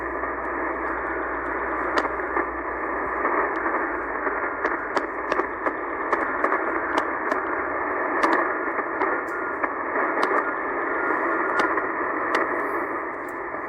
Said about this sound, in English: Listen to see if you can catch the ID in Morse code.